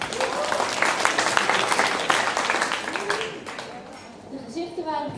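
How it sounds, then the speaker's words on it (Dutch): At a literary festival, an audience gives a poet warm applause: dense, steady clapping with murmurs, fading after a few seconds while a voice begins over the tail. "Lotte Dekker, een warm applaus."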